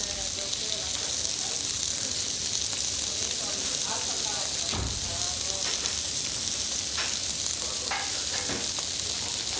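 Seafood cooking in its own juices with a little oil and salt in a busy restaurant kitchen, giving a loud, steady sizzle and hiss throughout, with faint scrapes and clinks over it.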